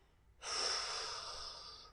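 A single long breath out through the mouth or nose, a soft airy rush that begins abruptly and fades slowly, heard alone and close during a guided breathing exercise.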